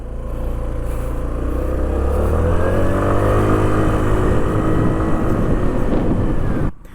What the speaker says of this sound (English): Right now it's louder, but while riding we can't hear that kind of a bigger exhaust note while on the ride